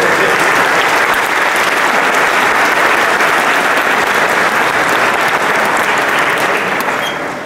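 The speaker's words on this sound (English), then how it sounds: "Please give University of Redlands a round of applause for doing this." Audience in a theater applauding at a county honor orchestra concert, a loud, dense, sustained wash of clapping that holds steady and tapers slightly at the very end.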